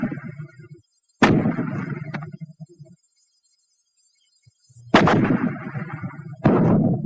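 Fragmentation grenades burst in a World War II infantry setting, with several heavy, sharp blasts separated by silent gaps. Each blast carries a rumbling tail, and the last two come close together near the end.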